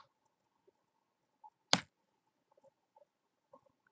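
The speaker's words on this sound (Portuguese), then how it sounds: "logo após, tecla-se Enter" A single sharp click of the Enter key on a computer keyboard, close and isolated, with a few faint ticks around it in an otherwise quiet room.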